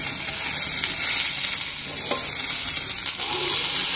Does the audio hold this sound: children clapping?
no